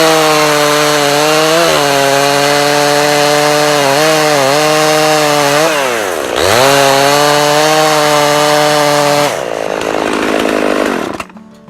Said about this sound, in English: Here is the electric chain sharpener ripping cut.